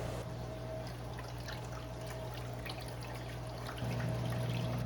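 Water pouring and trickling steadily into a container, a continuous soft wash with a low steady hum underneath that rises slightly near the end.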